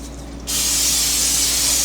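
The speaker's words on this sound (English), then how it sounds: "We're going to spray our pan with this olive oil," An aerosol can of extra virgin olive oil sprays onto a cooking pan, starting abruptly and holding a loud, close, steady hiss.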